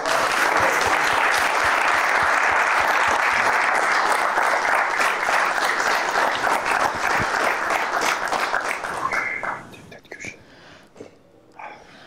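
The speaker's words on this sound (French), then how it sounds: "Encore applaudi, hein." A crowd at a post-fight press conference for a combat event applauds in a loud, dense burst that holds steady for about nine seconds, then fades into scattered claps and quiet murmuring.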